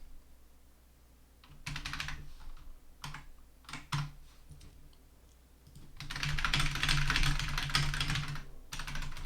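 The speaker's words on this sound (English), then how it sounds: "had somebody recognize my keyboard just from the sound it makes when I type" Bursts of quick keystrokes on a computer keyboard, short clusters at first, then a longer dense run of rapid clicky typing, close to the mic with no talking.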